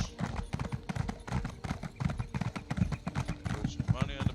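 Horse hooves clip-clop in the video game The Elder Scrolls Online, a steady quick trotting rhythm at moderate volume with a voice speaking over it.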